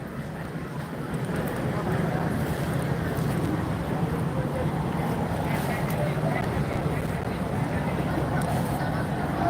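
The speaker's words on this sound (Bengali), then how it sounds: "লঞ্চটি ছাড়ার জন্য পুরোপুরি প্রস্তুত দেখি লঞ্চ কিভাবে ছেড়ে যায়" A passenger launch ferry waits at a ghat in Munshiganj in stormy, rainy weather, its broad steady engine rumble mixed with wind and rain noise, continuous and loud throughout.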